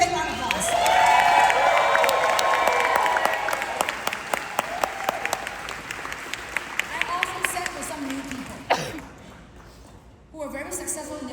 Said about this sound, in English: Can we give Christine Peterson a big round of applause?